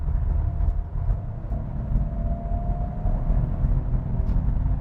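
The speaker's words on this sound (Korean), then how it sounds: "엔진 사운드를 살짝 듣게 돼요." Peugeot 408 with a 1.2 turbo engine heard from inside the cabin as a steady, low engine drone under light throttle, continuous and moderately loud, with no talking.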